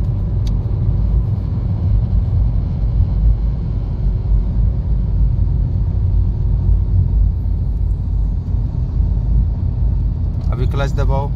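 Car driving along during a driving lesson, a continuous low engine rumble and road noise from inside the cabin, with an instructor talking over it throughout.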